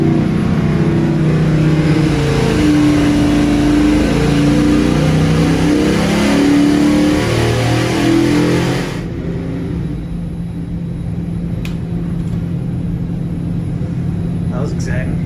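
A 5.3L LS LM7 V8 on a dyno, revving up in a loud, sustained pull to 5,000 RPM, pitch stepping upward, then cutting abruptly to a low idle hum with faint clicks and background voices.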